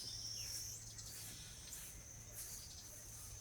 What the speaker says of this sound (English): Sounds of the ibis